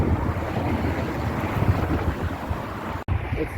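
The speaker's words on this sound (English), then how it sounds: "It is windy." Strong wind rushes over the microphone while bicycling under overcast, breezy skies, a steady loud roar with deep buffeting rumble and one brief dropout near the end; no talking.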